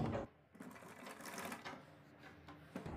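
A sewing machine runs a basting stitch over piping, a close, rapid mechanical rattle that starts after a brief pause, runs steadily and ends with a couple of clicks.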